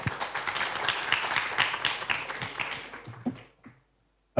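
Audience applause for a closing speaker at a digital-inclusion conference, dense clapping from a roomful of people that thins into a few scattered claps and stops near the end.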